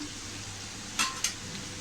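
Soaked sabudana khichdi with coarsely ground roasted peanuts and sugar is sautéed in a pan, giving a faint, quiet sizzle broken by two quick spatula taps.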